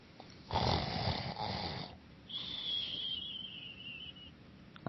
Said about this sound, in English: The first one you'll get up to, you'll actually hear someone snoring inside.